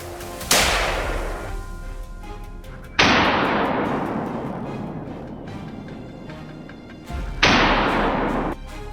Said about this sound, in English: Moments later, gunfire erupted again, and a full-grown boar was taken down in a flash.